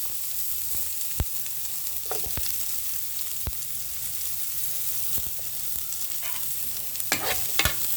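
Garlic and onion fry in hot oil for spaghetti sauce, a steady close sizzle broken by sharp scrapes and clacks as a utensil stirs the pan.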